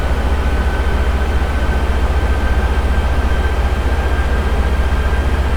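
A Flight Factor A320 airliner on approach in X-Plane 11 gives a steady, loud cockpit drone, a broad rumbling engine and airflow noise with a faint constant tone above it, unchanging throughout.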